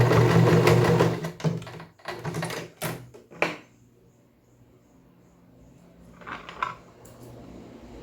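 A sewing machine topstitching a seam around a fabric shoulder bag runs in a steady buzzing burst, then stops and restarts in short stitching spurts with quiet pauses between, close up with no talk.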